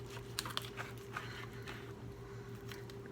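A knife slices through a raw whole chicken while it is broken down into thigh and leg, giving a few soft, crunchy snicks and scrapes over a steady low hum, quiet and close.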